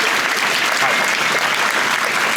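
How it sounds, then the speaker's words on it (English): A stand-up comedy crowd at a live show in Brussels breaks into steady, loud applause, a dense continuous wash of clapping with no gaps and no voices on top. "A round of applause for this guy."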